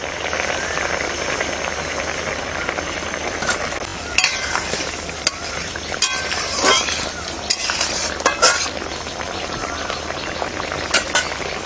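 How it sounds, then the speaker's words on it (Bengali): Fish pieces frying in oil with ground black mustard paste, a continuous low sizzle and bubbling with scattered utensil clinks and stirring scrapes close by. "বেটে রাখা কালো সরষাটা দিয়ে দেবো এবারে ভাজা।"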